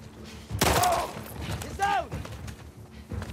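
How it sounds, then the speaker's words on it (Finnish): A few gunshots ring out in the game The Last of Us Part II, a sharp loud blast early on and another burst later, with game effects and someone talking in Finnish across the clip. "Sä niinku ammuit sen"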